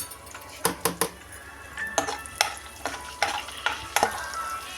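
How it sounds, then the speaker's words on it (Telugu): Cumin seeds, a small piece of ginger and chillies frying in a pan, with a spoon knocking and scraping against the metal in a run of sharp, irregular clinks over a low, steady sizzle, close by and with no talking. "మళ్ళీ 1/2 స్పూను జీరా, అలాగే ఒక చిన్న ముక్క అల్లం అండి వేసుకొని ఫ్రై చేసుకుందాం."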